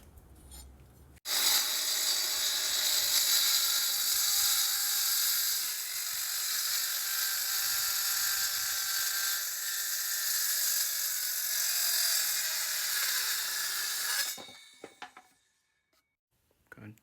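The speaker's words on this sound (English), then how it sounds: "he is much more confident with the saw" A power saw rips through a wooden board for a DIY bookshelf, a loud continuous high whine running steadily for about thirteen seconds before spinning down, followed by a few knocks and clatters.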